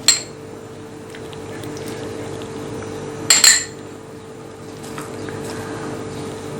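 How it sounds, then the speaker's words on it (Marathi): Spoon mixing chopped fruit into vanilla custard in a bowl, giving a sharp clink at the start and a short cluster of clinks midway, with soft wet stirring in between, close and quiet without speech. "यामध्ये आता आपण ही सगळी फळं मिक्स करून घेऊयात"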